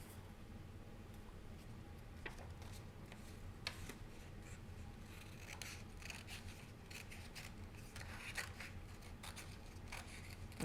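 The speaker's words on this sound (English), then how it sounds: "Next, they'll cut on a curved line." Scissors snipping through paper along a curved line, faint repeated crisp cuts and rubbing at close range over a quiet background, with no talking.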